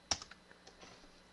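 Light keystrokes on a computer keyboard while a command is entered on a Linux system, a few quick soft clicks close by, fading into quiet.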